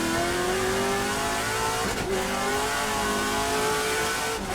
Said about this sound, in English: It sounded like he had a little bit of a slipping of the clutch.